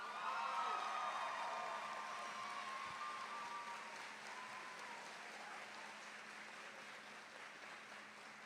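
At a UC Tech graduation, an audience applauds school staff, a faint, distant wash of clapping with a few voices early on that fades gradually.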